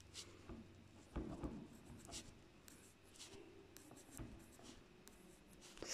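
Chalk or marker writing on a board, faint and close, with irregular scratching strokes and a few sharper taps, no talking over it.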